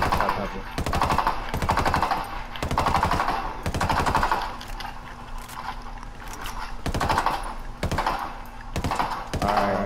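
Bursts of automatic gunfire in the tactical shooter Ghost Recon Wildlands, a long rapid volley followed by shorter repeated bursts, loud and close, with a few quieter pauses between them.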